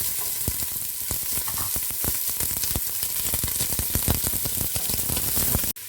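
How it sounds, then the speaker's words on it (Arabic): Onions frying in fat in a pot, a dense continuous sizzle with rapid crackling pops throughout, loud and close, ending with a brief clunk. "حاطين فيها الماده الدهنيه، وهننزل عليها بالبصل بتاعنا"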